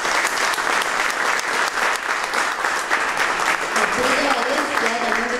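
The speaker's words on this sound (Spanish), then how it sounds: "Así que un fuerte aplauso también para ella." Audience applause for a community leader at a gathering about the Quilpué fire, a dense, steady wash of clapping throughout, with a voice speaking over it near the end.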